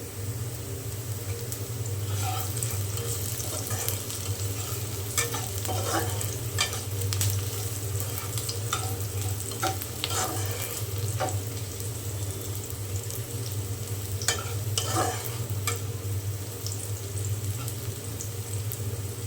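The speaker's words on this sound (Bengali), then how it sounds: "আমার পেঁয়াজ ভেজে নেওয়া হয়ে গিয়েছে" Onions fry in a pan with a continuous close sizzle, and a spatula breaks in with irregular scrapes and taps as they are stirred. No one speaks.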